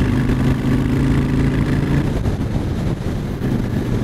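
Honda Shadow 750 Aero motorcycle fitted with a spike air intake, its engine running in a steady low throbbing rumble close by, easing off slightly near the end.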